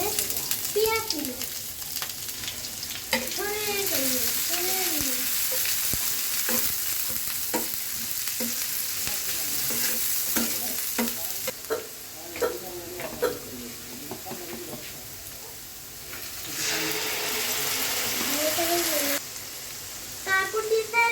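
Onions fry in a pan for a chickpea curry, a continuous close sizzle with scraping stirs throughout and a voice talking intermittently over it.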